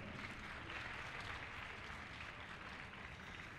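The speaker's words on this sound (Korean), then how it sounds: "다시 한번 색소폰 앙상블 팀에게 큰 박수 부탁드립니다." An audience claps for a saxophone ensemble at a high school healing concert. The soft, steady wash of applause sounds fairly distant and continuous from start to end.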